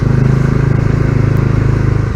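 Bajaj Dominar 250 motorcycle ridden hard through narrow gullies, its loud steady engine drone close and continuous with a rough low rumble and no pauses.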